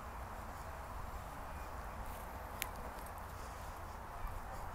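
Céline's mare Diamond walking in a riding lesson, hooves clip-clopping in a soft steady rhythm, faint and partly masked by a constant broadband rumble.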